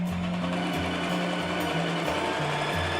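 A sewing machine stitches a shirt hem where the fabric overlaps, running loud and close in a continuous mechanical whir with short pauses and shifts in speed.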